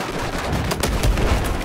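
Gunfire in the Battlefield 4 video game on the Flood Zone map in close-quarters Conquest mode, a loud dense run of shots and low booms lasting under two seconds, with no voices.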